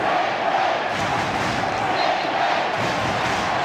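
A football stadium crowd chants steadily throughout during a 1996 Australian Rules match between the Sydney Swans and West Coast Eagles, a loud, dense roar of massed voices with no break.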